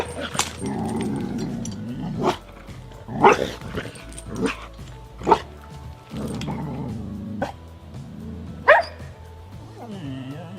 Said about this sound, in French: cette chienne qui se prénomme Bella, berger malinois croisé de 1 an, qui vient d'une association.